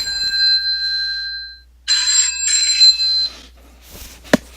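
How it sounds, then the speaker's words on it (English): A business cell phone rings with a repeating electronic tone, loud and close, first as a steady trill and then in two brighter bursts, followed by a few soft knocks and a short click. "The Bloomberg National Poll called on my business cell phone"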